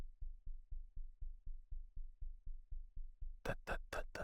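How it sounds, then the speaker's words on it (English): A heartbeat sound effect thumps in a slow, regular rhythm, about a dozen low muffled beats in a row, then a few brief loud bursts cut in near the end. "What's with the heartbeat? You hear that?"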